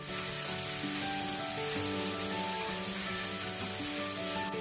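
Grated bottle gourd frying in hot ghee in a kadhai, a continuous bright sizzle that holds steady throughout, with a sustained musical tone running beneath it and no voices.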